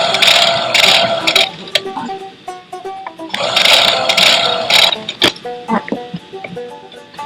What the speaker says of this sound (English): I'm going to sew it onto the block.